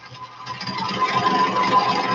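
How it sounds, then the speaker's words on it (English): A small Briggs & Stratton petrol snowblower engine running steadily with a buzzing, rattling drone, close and moderately loud, no voices. "The extra strength Briggs & Stratton snowblower."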